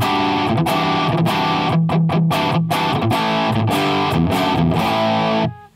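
An electric guitar plays through a Two Notes Genome plug-in set to a Marshall-style amp with only moderate distortion. Loud, sustained chords strike in a steady rhythm, alone without talk, then cut off abruptly at the end.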